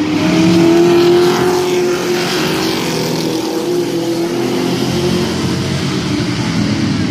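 Street stock race cars roaring around Midvale Speedway during a heat race, a loud sustained engine drone with one car's revving pitch sliding across the pack, no voices.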